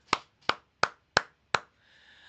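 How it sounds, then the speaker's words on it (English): Five sharp, evenly spaced hand claps ring out close and crisp on a livestream, each a single distinct snap, followed by a faint tonal tail. "I want to give a round of applause for you guys for the huge support today."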